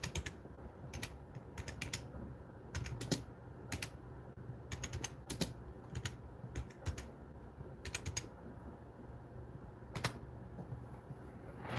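Steady typing on a computer keyboard at a desk, with quick bursts of key clicks and short pauses, close and fairly quiet over a low background hum.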